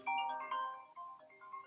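A phone ringtone for an incoming call plays a bright, melodic electronic tune of stepped tones, moderately loud and alone, without any talk.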